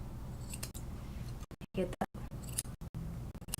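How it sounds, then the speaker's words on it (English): Scissors trim a shih tzu's coat during grooming, giving a run of quick, crisp snipping clicks mixed in with steady talking close by. "Now what we're going to do is finish with scissors."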